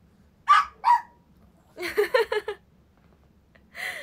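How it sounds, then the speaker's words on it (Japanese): A dog barks loudly and close by: two sharp single barks, a quick run of four or five yapping barks, then one more bark at the end, with quiet gaps between them. "めっちゃ吠える"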